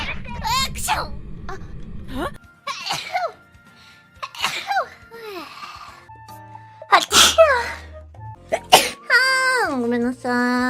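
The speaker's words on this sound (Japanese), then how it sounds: "くしゃみ出ちゃった。" Several sneezes burst out sharply amid bright, excited girls' voices and chatter, with loud close squeals and a short tone, varied and lively.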